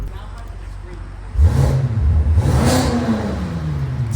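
A BMW M5 fitted with a full exhaust and downpipes revs up sharply after a quiet idle, its engine note climbing and falling loudly and up close, with people talking around it.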